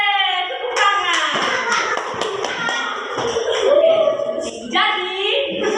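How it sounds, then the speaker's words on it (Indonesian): A classroom of children clapping hands together, a dense patter of claps filling the room, close and loud, with some voices mixed in. "Oke, tepuk tangan."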